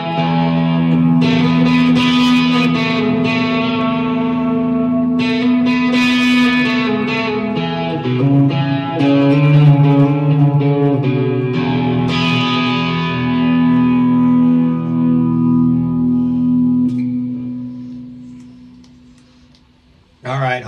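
An electric guitar with humbucker pickups on a WestCreek Racer Bumble-B plays through heavy distortion on the bridge pickup. Sustained chords and riffs run loud and continuous for about twenty seconds before decaying into a fading ring.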